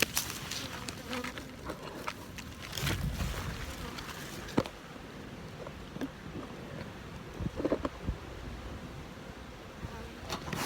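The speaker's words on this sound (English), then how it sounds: "so here's another box of bees" Honeybees drone steadily around an open hive box during a colony inspection, a close, continuous buzz with a few sharp knocks and clicks of handling mixed in, outdoors with light wind.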